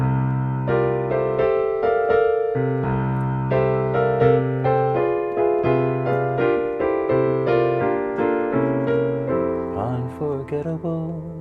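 Jazz piano plays the intro to a ballad, with chords and a melodic line moving over a low left-hand bass; it is loud, close and continuous, with no voices.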